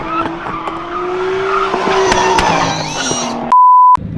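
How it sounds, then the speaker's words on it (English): A car drifting at a car meet, its engine droning and tires squealing in a long skid close by, with a brief electronic beep near the end. "Oh, she's drifting."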